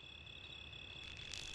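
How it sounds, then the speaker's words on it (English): Crickets chirp in an Oddworld video game stockyards level, a steady high insect trill running throughout at moderate volume over a low ambient hum, with no voices. "that's definitely a cricket noise I think"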